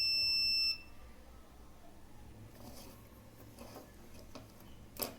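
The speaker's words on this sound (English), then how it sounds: "You hear that beep?" A multimeter gives one steady electronic beep lasting under a second while a 12 V power adapter's output diode is tested, followed by quiet handling clicks and a sharp tap near the end.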